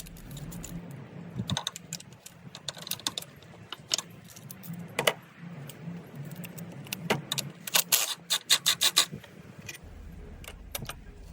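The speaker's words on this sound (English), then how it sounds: "now we're ready to break those bolts loose on the transmission mounts" Tools work the transmission mount bolts loose on a 2017 Jetta GLI 2.0T during transmission removal: scattered metallic clicks and clanks, then a rapid ratcheting burst near the end, close and moderately loud.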